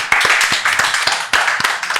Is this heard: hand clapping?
yes